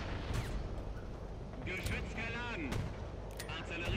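Distant artillery booms and gunfire in War Thunder tank combat, with the 8.8 cm Flak 37 self-propelled gun, faint under game ambience and whistling shell sounds.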